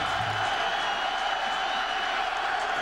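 Cheering from a big crowd at a college football game in Spartan Stadium keeps up as an unbroken roar, with a brief low rumble near the start.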